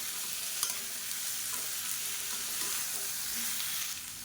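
Green beans sauté in hot oil in a pan while being stirred, giving a steady close sizzle with faint scattered scrapes and clicks of the spoon throughout, no voices.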